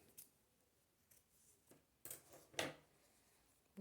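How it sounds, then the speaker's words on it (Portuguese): Scissors snip through knitting yarn during a crochet project, a few quiet clipping sounds with short gaps between them, the loudest snip near the end, heard alone with no talking. "Agora, eu vou cortar o fio."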